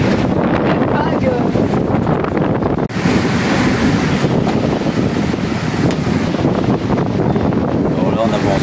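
Ocean waves surge and wash continuously around a moving sailboat sailing from Saint Lucia to Martinique in winds over 25 knots, with heavy wind rushing across the microphone and a voice speaking faintly underneath.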